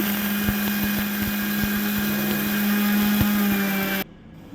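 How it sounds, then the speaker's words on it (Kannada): A kitchen mixer grinder whirs loudly and steadily, grinding horse gram into a fine powder with a constant high motor whine and faint rattling, then cuts off abruptly near the end. "ನಾನಿಲ್ಲಿ ಇವಾಗ ಗ್ರೈಂಡ್ ಮಾಡ್ತೇನೆ"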